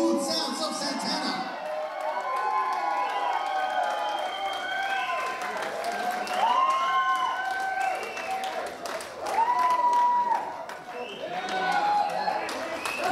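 An audience at a live concert by a tribute band claps and cheers, with whoops and shouts rising and falling in waves, fairly distant and continuous.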